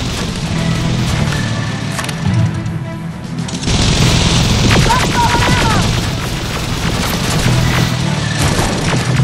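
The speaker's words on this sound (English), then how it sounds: "under heavy fire!" Heavy gunfire and explosions in the video game Terminator: Resistance, a dense, loud barrage of cracks and booms that continues throughout with brief lulls, and voices shouting faintly underneath.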